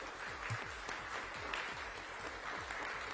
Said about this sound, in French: Donc applaudissez-vous, n'hésitez pas.